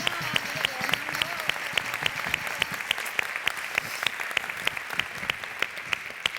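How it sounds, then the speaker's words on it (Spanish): Audience at a Zamora traditional-costume runway festival claps in a steady, fairly regular rhythm with sharp individual claps standing out, a brief murmur of voice early on. "para los que pido un fuerte aplauso"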